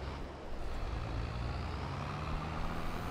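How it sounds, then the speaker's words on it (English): A tractor in Farming Simulator 22 arrives with a steady, droning engine hum and low rumble, fairly loud and continuous throughout, with no voices. "Looks like our tractor's here."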